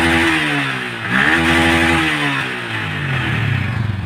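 A motorcycle engine revs up and settles back repeatedly, close and loud, with rising and falling pitch over a clattery idle.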